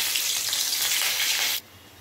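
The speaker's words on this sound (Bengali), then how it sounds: "কাঁচা লঙ্কা আর কালো জিরে ভালোভাবে ভাজা হয়ে গেছে।" Green chillies and nigella seeds crackle in hot oil at the start of a Bengali mustard hilsa dish. A loud, close sizzle runs for about a second and a half, then cuts off abruptly.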